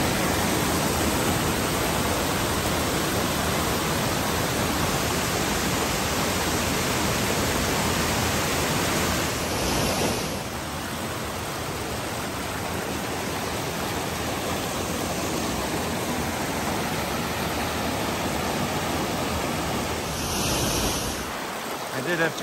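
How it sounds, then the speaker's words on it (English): A waterfall at the Gulf Hagas trail junction on the Appalachian Trail roars as a steady, loud wash of rushing water. The roar dips briefly twice but otherwise continues unbroken, with no voices. "Nice waterfall there."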